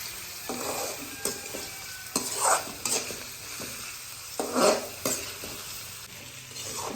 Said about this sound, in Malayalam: അങ്ങനെ നമ്മൾ ഉള്ളി ഫ്രൈ ചെയ്യാട്ടോ ബിരിയാണി ഉണ്ടാക്കുന്നത്.